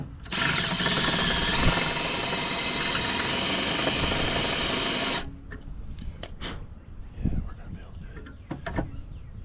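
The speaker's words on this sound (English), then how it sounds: "so I'm kind of drilling at an angle" A power drill bores at an angle into a broken, crooked-ended windmill part, running loud and steady for about five seconds before stopping, followed by quieter handling knocks.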